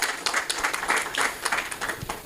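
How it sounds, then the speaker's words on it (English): Applause from a conference audience at a law society forum, a steady wash of many hands clapping close and fairly loud throughout, with no clear voices over it. "Let's give him a warm round of applause"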